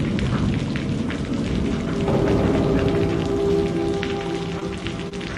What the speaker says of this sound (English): You guys hear rain?